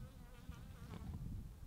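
Bees buzz close by on a quiet Dolomites mountainside in summer, a faint, continuous drone that wavers slightly in pitch, with no voices.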